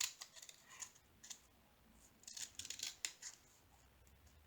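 Scissors snip through small bags of diamond painting drills one at a time, producing a series of quiet, crisp cuts at close range with no talking.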